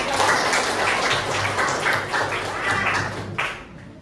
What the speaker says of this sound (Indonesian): tepuk tangan dulu buat kita semua sudah menjawab